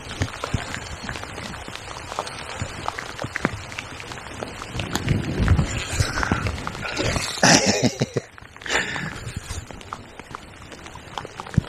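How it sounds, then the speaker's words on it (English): Heavy rain pours onto the fast-flowing River Wye, a dense patter of drops hitting the water and nearby surfaces, steady throughout, with a few louder splashy bursts partway through. "what a scrap that was in the pouring rain"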